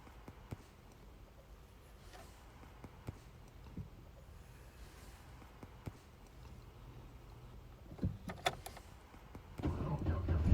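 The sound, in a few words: Chevy Silverado engine starting and running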